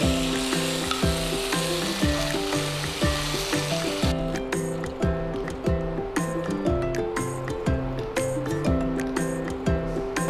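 Boiled, salted, mashed vegetables for pav bhaji sizzle and fry steadily in a pan, heard close and continuous beneath rhythmic background music.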